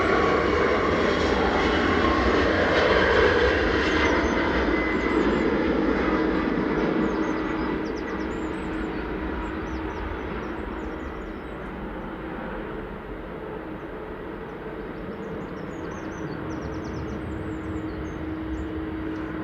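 An Aer Lingus airliner landing at Manchester Airport with its nose held up for aerodynamic braking, giving a loud, steady broadband jet roar that fades somewhat partway through and then holds at a lower, sustained level.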